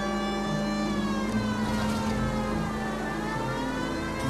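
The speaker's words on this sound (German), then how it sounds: "Die Sirene ist irgendwie nicht ganz so effizient." A police siren in the video game L.A. Noire wails, sweeping steadily up and down, loud and continuous, over a constant engine drone.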